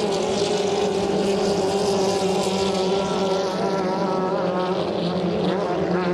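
A 2.5-litre hydroplane racing boat speeds along the straight at a lake race, its engine a loud, steady, high-pitched whine with a constant propeller drone that holds without a break throughout.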